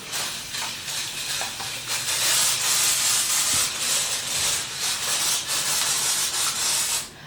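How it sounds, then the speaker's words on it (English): A cheap hand-pump sprayer mists potted hoya cuttings and the soil beneath them with steady bursts of hissing spray, close and fairly loud, with short breaks between squeezes and no talking. "spray the hell out of everything"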